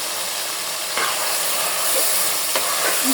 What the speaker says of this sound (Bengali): ভালো করে ভেজে নিব টমাটো বড় সাইজের কাঁচামরিচ